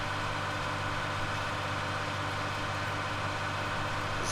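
A powerful tractor in Farming Simulator 19 pulls a small 3.4-metre disc harrow at about 14 km/h, making a steady, unbroken engine drone with constant loudness and no other sounds.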